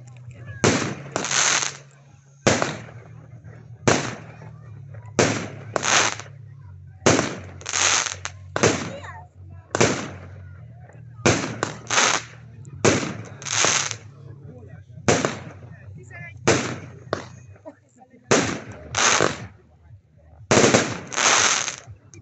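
A 16-shot, 25 mm Vénusz firework cake fires a volley of loud, sharp launches in an irregular rhythm, with brief pauses between bursts and a steady low hum underneath.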